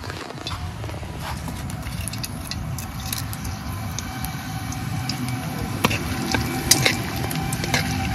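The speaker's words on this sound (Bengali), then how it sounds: "ফোড়নে দেবো জিরে, তেজপাতা আর একটা শুকনো লঙ্কা।" Cumin seeds, a bay leaf and a dried chili sizzle steadily in hot oil for palong paneer, a close, even crackling hiss that runs throughout with small pops.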